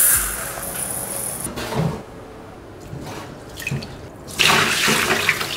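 Water from a tap splashes into a pot for rice in a home kitchen, a close, continuous rush that rises and falls, with a louder burst of pouring toward the end.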